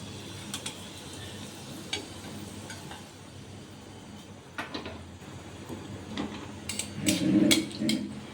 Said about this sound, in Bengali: এবার তেল গরম হচ্ছে, এবার ফোড়নে দিয়ে দেব শুকনো লঙ্কা